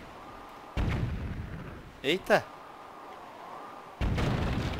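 Two loud bursts of video game cannon fire a few seconds apart, each a broad roar of blasts, with a short spoken exclamation between them.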